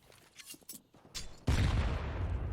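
A grenade goes off in CS:GO after a few scattered sharp pops, landing as a loud sudden blast that rolls into a sustained noisy rumble, with no voices over it.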